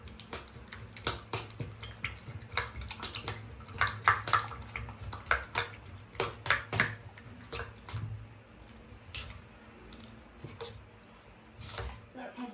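Egg being whisked with salt, cumin and turmeric powder in a bowl, giving repeated quick wet clicks and taps of the utensil against the dish in an irregular rhythm, with a person talking in between.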